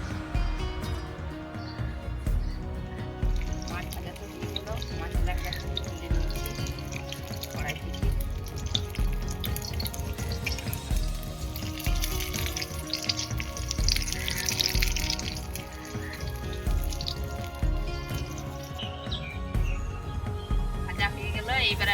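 Tap water runs and splashes in a home kitchen while a Bata fish curry is cooked, a steady trickle beneath talk and kitchen clatter.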